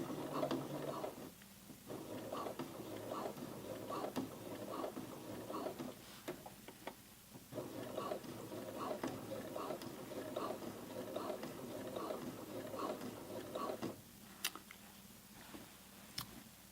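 A sewing machine top stitching along a seam edge with a blind hem foot, running in a steady, close mechanical whirr of rapid stitching with brief pauses where the motor stops and restarts.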